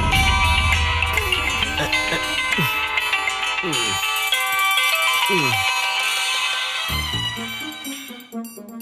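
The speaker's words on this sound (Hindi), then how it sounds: "अगर मेरी क्लास में किसी का फोन बजा" A phone ringtone plays a bright repeating electronic melody continuously, loud and close, fading slightly near the end.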